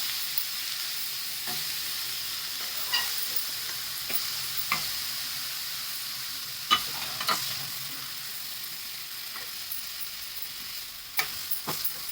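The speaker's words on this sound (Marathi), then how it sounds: "परतून घ्यायचं कांदा" Onions sautéing in a pan while baby shrimp is being cooked, giving a steady soft sizzle with a few sharp utensil scrapes and taps scattered through; no voices.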